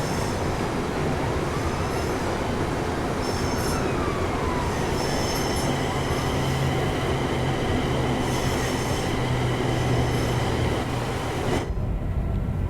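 A ScotRail Class 380 electric train in Train Sim World rumbles along steadily with squealing wheels and faint high tones, a continuous mechanical drone that cuts off near the end.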